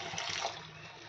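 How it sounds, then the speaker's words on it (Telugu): Water poured into a pan of cooking tomato curry makes a brief, soft splash and trickle, close and faint, with no other sounds. "ఇంకో గ్లాస్ నీళ్ళు పోసుకోవాలి"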